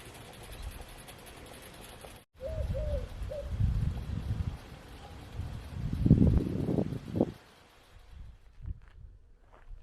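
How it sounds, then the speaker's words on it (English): Faint birds call a few soft coos in the background at the Salton Sea while low rumbling and rustling noises rise and fade. "I hear some birds"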